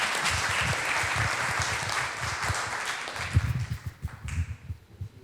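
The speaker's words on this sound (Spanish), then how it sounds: "Un aplauso, por favor." A seminar audience claps together in loud, dense applause that thins near the end into scattered individual claps.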